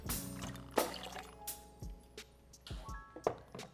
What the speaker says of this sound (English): Gonna use a little lime juice.